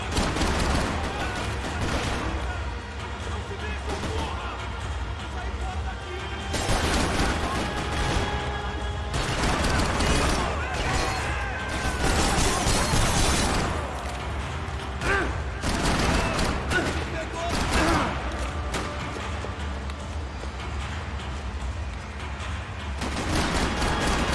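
Bursts of gunfire in the shooter Max Payne 3, repeated volleys of rapid shots and mechanical clatter come in waves, loud and close, with quieter gaps between the flurries.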